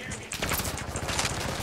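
Rapid bursts of video game gunfire crackle densely throughout, a steady fusillade of overlapping shots close up with faint background noise.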